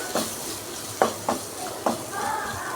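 Fried cauliflower tossed with salt, turmeric, chilli powder and home-ground masala sizzles in a pan, with a few distinct spoon scrapes against the metal over a constant close frying hiss.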